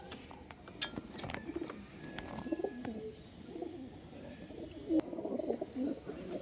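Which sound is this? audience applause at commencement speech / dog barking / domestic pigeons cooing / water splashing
domestic pigeons cooing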